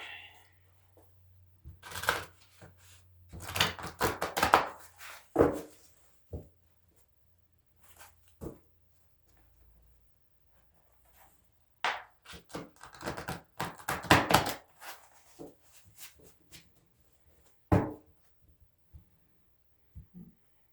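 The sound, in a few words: shuffling tarot cards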